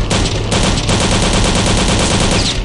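Dense rapid gunfire in the Return to Castle Wolfenstein video game, a loud sustained burst of automatic shots in quick succession with a brief break near the start, no voices.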